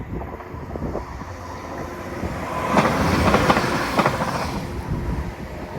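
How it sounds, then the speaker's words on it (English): A train rumbles past at a distance near the former Mold Junction locomotive depot, its clattering swelling in the middle and then easing, with some wind noise and no talking. "See a train going across now."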